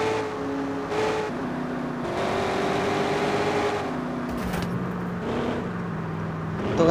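A Ford Mustang engine in a driving video game revs and accelerates on a straight road, its tone stepping up and down through gear changes, steady and fairly loud with no talk.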